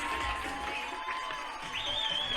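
High school football crowd cheering at an Elk Grove game, a steady roar of voices filling the stands with a whistle-like tone rising near the end.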